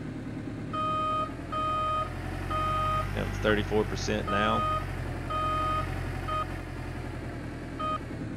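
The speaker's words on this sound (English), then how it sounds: "Let's back our dump truck in, and let's just see if this will work" Reversing beeps from a dump truck backing up in a video game, a steady series of evenly spaced electronic tones with a burst of clattering machine noise in the middle and someone talking over it.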